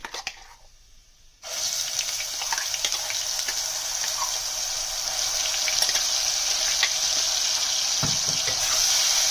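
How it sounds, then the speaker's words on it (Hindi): Cumin seeds and onion paste dropped into hot oil for masala tinda, setting off a sudden, steady hiss of sizzling that stays loud and close for about eight seconds, with no one speaking. "अब ये ऑयल गर्म हो चुका है तो पहले हम इसमें जीरा डालेंगे, फिर उसके बाद हम प्याज का पेस्ट डालेंगे इसमें"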